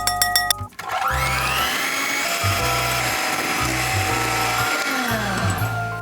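An electric hand mixer whips Swiss meringue made from warmed egg whites and sugar. A brief clatter comes first, then a loud, continuous whirring close by that pulses slightly in pitch as the beaters work.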